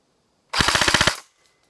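An airsoft G36 rifle fires one burst through a chronograph, a rapid string of about eight loud, close cracks packed into roughly half a second, followed by quiet.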